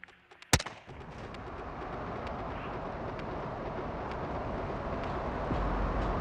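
A single loud gunshot cracks out early in Call of Duty Modern Warfare 2, followed by a steady, roaring wash of rumbling background noise that holds and slightly swells to the end.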